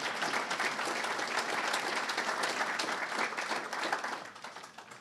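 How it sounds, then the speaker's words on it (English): Steady round of audience applause at a regional collaborative meeting, dense clapping from a seated crowd that holds level and then begins to taper off near the end. "I want to give John and his entire staff a round of applause right now"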